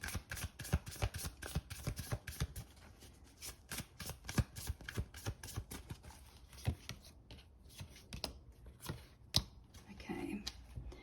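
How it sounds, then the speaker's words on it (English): A tarot deck is shuffled by hand in rapid, papery riffles and sharp card snaps, quiet and close, with short pauses between bursts. "So let's shuffle."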